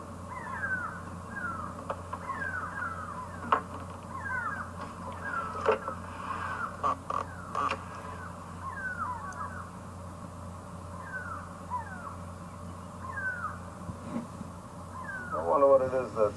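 Go-away birds call repeatedly on an African safari drive, nasal rising and falling cries in loose bunches at a distance, with quieter background sounds and a brief closer rustle at the end.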